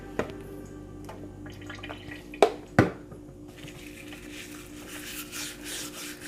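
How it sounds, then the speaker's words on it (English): A Breville Cafe Roma espresso portafilter is scrubbed with soap, giving soft close rubbing and scraping with a couple of sharp metallic knocks and a faint steady hum beneath. "rub it off as much as possible, even the sides"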